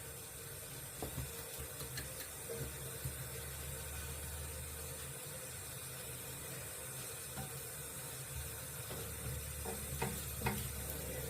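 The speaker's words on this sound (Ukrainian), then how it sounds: "Додаємо яйця, колбаски до овочів. Тепер все ретельно змішуйте разом." Eggs, sausages and vegetables stirred together in a frying pan for a quick breakfast give a quiet, steady sizzle with a few scattered scrapes and clicks.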